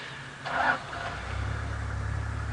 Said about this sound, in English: there's a few cars that are just repositioning and turning and changing angles slightly